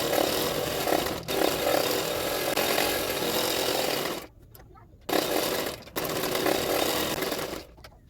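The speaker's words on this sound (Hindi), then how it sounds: "तो बैक पार्ट को भी इसी तरह से किनारे किनारे पे सिलाई कर लेना है।" A sewing machine stitching along the edges of the back piece of a blouse, a fast continuous mechanical whirr that stops twice for short pauses and then starts again, heard close up.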